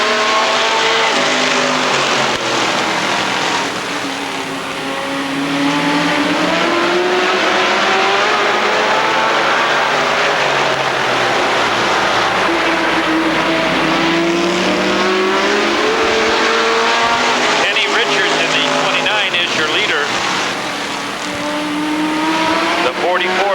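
Race cars roar around Rockford Speedway in a 1999 bracket race, engines whining and surging steadily with passing pitch sweeps, while an announcer talks over the racing throughout.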